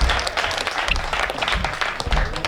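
Audience applause at a Hindi poetry recitation, a dense patter of clapping from a crowd that stays fairly even for the whole stretch, with a few sharper individual claps standing out near the front.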